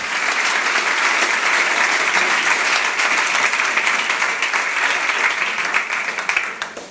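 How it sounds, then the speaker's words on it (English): Loud, sustained audience applause at a design conference as a speaker is welcomed to the stage, continuous clapping that tapers slightly near the end. "Big round of applause."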